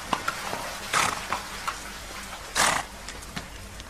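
Horse hooves in a documentary reenactment of the Spanish conquest of Peru land as scattered clip-clop strikes, a few sharper thuds and scuffs standing out against a constant low background.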